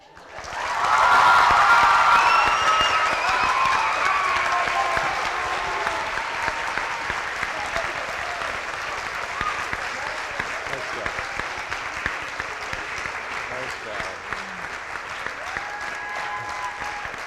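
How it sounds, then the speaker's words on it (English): A crowd applauds after a college dance competition performance, clapping swelling quickly to a loud peak with some cheers and whistles, then settling into steady sustained applause for many seconds. "Keep clapping. That was wonderful."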